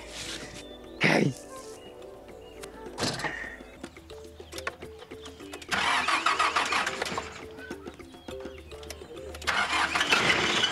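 Car with an engine the driver suspects of needing oil and servicing, cranking and starting in several bursts with idling between, while people talk over it.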